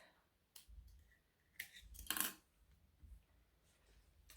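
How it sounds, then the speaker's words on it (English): Small scissors snip off sewing threads in a few quick, close metallic clicks, the loudest cut near the end, quiet with no talking. "Actually, I'm going to snip them off."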